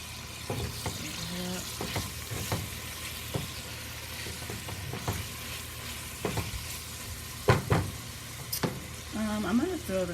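Tomatoes and softened, translucent onions sizzle in a pot while a spoon stirs them in scattered scrapes and knocks, with a faint voice in the background.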